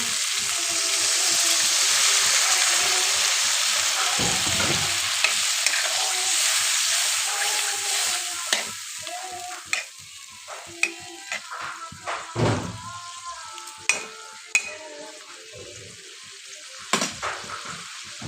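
Potato curry (aloo dum) sizzling loudly in a pan right after about a cup of water goes in, a strong hiss that settles into softer bubbling with sharp spatter pops and clinks toward the end.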